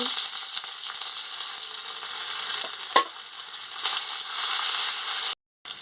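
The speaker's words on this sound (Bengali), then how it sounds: "আদাটা ভাজা হয়ে গেছে" Steady sizzling of ginger paste with bay leaf frying in hot oil, close and continuous, with a few soft stirring scrapes, then a brief cut to silence near the end.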